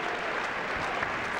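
A brief stretch of continuous crowd clapping from college basketball fans saluting a departing senior at the Carver PE Center, even and unbroken.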